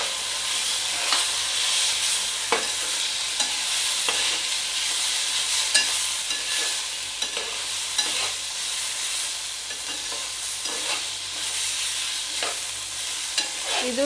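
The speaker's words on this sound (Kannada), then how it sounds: "ಇದು ಟೊಮ್ಯಾಟೊ ಸಾಫ್ಟ್ ಆಗಬೇಕು, ಅಲ್ಲಿವರೆಗೆ ಇದನ್ನು ಫ್ರೈ ಮಾಡ್ಕೊಳ್ಳೋಣ" Chopped tomato frying and sizzling in an oily pan for Kolhapuri misal, a steady close hiss with scattered crackles and occasional stirring scrapes throughout.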